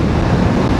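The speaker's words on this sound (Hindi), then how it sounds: "बिल्कुल ठंडी हवा चल रही है" Cool wind rushes past on a highway drive, a steady loud roar with gusty buffeting and no talk.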